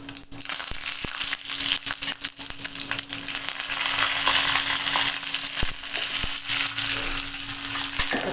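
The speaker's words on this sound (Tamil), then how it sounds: "நல்லா பொரிய ஆரம்பிச்சிட்டு இப்போ அடுப்பை ஆஃப் பண்ணிட்டு கருவேப்பிலை போடுறேன்" Curry leaves crackling and sizzling in hot tempering oil for sambar, a loud, dense, continuous frying hiss dotted with sharp pops, close by.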